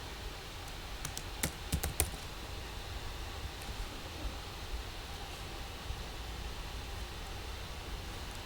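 A computer keyboard clatters as code is typed into an XSS attack game, with irregular key clicks over a steady background hiss. No one speaks.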